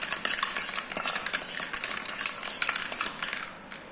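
A spoon scrapes and clatters around a pan of chicken fry, a busy stream of close, uneven metallic clinks and stirring strokes.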